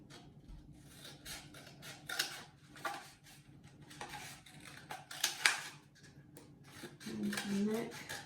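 Scissors snip and crunch through a cardboard tube being cut into a giraffe neck shape, giving a series of close, uneven cuts with brief pauses and rustling between them.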